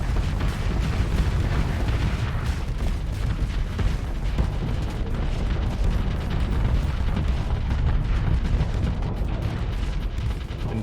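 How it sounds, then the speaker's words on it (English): Missile bombardment in the space combat game Starsector, with Atlas ships firing Squall missiles, produces a dense, continuous roar of overlapping blasts and rumbling booms that stays loud and unbroken throughout. "so they're going to just be bombarding with missiles."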